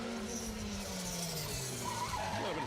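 A rally car, a Hyundai or Skoda on a rally stage, slides through a handbrake turn, with the engine note dropping and tyres scrubbing loudly on loose ground, then a brief rising rev as it pulls away.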